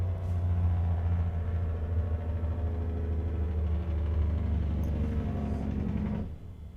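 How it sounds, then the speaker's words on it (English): Loud, steady low rumble of a heavy truck passing outside, a continuous engine drone that holds for about six seconds and then cuts off abruptly. "Pick up loud trucks."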